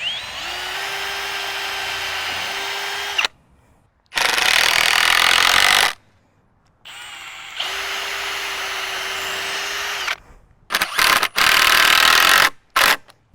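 A power drill driving screws at an angle to toenail wooden hoop house frame pieces together, several loud whining bursts of a few seconds each separated by short pauses, close by.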